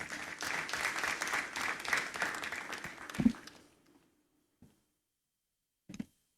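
An awards-ceremony audience at the JoyNews Impact Makers Awards in Ghana claps to welcome a speaker on stage. The applause is steady, fades out near the end, and a couple of faint knocks follow in the quiet.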